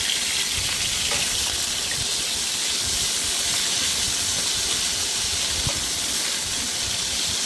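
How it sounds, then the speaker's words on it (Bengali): Potatoes frying in hot oil in a kadai for a prawn and potato curry, a steady loud hiss and sizzle filling the whole stretch with no talk. "এবার আমি আলুগুলো ভেজে নেবো"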